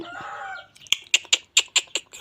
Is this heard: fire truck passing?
no